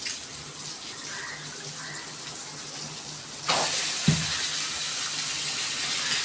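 Water is poured steadily over raw chicken in a basin to wash it, a constant splashing rush that starts suddenly and continues to the end.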